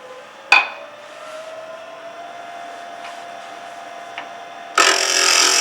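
A wood lathe spins a pepper mill blank during a scraping cut, a steady whirring tone with a sharp knock near the start and a loud broadband burst of tool contact toward the end, close by.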